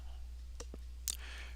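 Taps on an iPhone touchscreen keyboard while typing a search word, heard as a few faint, brief, sparse clicks in a quiet room.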